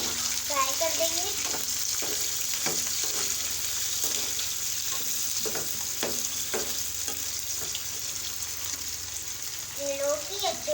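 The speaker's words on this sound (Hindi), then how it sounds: "इसमें ऑयल के अंदर शामिल करेंगे और ये धो भी लेंगे और अंदर डालेंगे। थोड़ा सा हम इसमें फ्राई कर देंगे।" Chopped bottle gourd fries in hot oil for a spiced louki sabzi, giving a steady close sizzle throughout with occasional stirring clinks and a voice speaking briefly over it.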